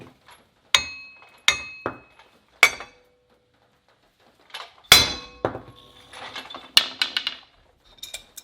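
Hammer blows strike a badly seized, rust-fused Subaru wheel bearing hub, sharp metallic clangs landing one at a time at irregular intervals, loud and close, with a denser cluster of ringing hits near the end.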